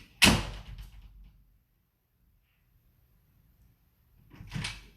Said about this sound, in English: I'm going to shut this door on you for 2 seconds